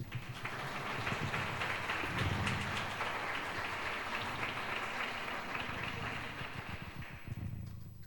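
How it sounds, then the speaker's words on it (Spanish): Audience at a book presentation applauding a speaker, a dense, steady patter of many hands clapping continuously for several seconds, moderately loud with no talk over it. "pues le damos un aplauso a don Juan Carlos"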